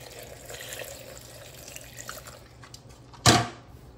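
Water poured into a blender holding beans pottage ingredients: a soft, low trickle and splash in a kitchen, ending in a brief, louder gush near the end.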